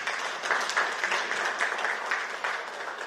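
Crowd applause at a formal gathering welcoming Sierra Leone's Statistician General to the podium, a steady dense patter of many hands clapping for about three seconds with no talk.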